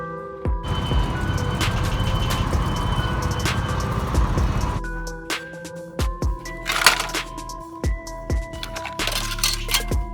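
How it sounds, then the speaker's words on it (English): A sports car is heard as a loud, broadband engine roar for the first few seconds, then gives way to a series of sharp clicks and knocks over a steady low hum, with no talking. "Sport car."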